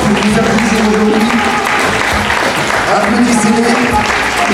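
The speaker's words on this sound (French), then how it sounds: "Je vous demande de bien vouloir les applaudir très fort." An audience claps loudly and continuously at the close of a fashion show, steady applause running under a spoken announcement over a sound system.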